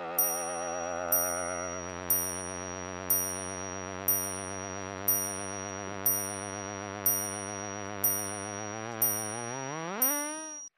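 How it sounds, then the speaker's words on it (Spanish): A small bell chimes about once per second in a star evolution sonification for a 1.25-solar-mass star, ringing over a sustained, vibrating synthesized drone that rises and sweeps upward at the end. "la campanilla nos está indicando que las estrellas de esta masa viven mucho"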